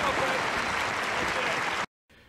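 Loud, dense applause from a crowd in a film scene fills nearly two seconds, then cuts off abruptly into brief silence before a faint return of sound.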